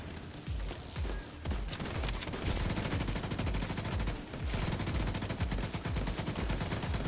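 Sustained light-machine-gun fire in The Division 2, a dense, loud stream of rapid shots running almost unbroken for seven seconds with only a brief dip midway.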